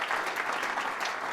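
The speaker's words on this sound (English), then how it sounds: "One more round of applause for Greg, because amazing job." Brief burst of audience applause for a pitch presenter at a small-business pitch competition, dense even clapping throughout.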